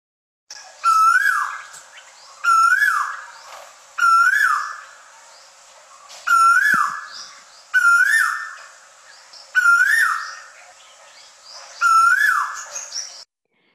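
Male Asian koel calling in a recording, seven loud rising whistled phrases repeated at steady intervals of about two seconds, clear and alone with no talk.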